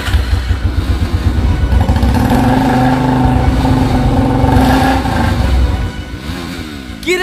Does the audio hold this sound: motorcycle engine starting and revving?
yes